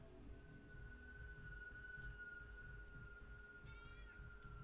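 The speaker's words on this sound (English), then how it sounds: "Yep, somebody's meowing at me." A faint cat meow rises briefly over a steady electrical hum and low background noise.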